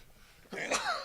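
Single human sneeze, a short sharp burst heard close after a moment of quiet background.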